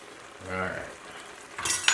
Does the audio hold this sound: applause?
no